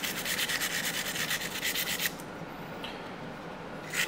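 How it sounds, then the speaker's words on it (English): A small plastic brush scrubbing a tire, giving rapid rhythmic rubbing strokes for about two seconds, then a pause and a brief final scrub, close up and quiet. "So just grabbing my little plastic brush, getting in here."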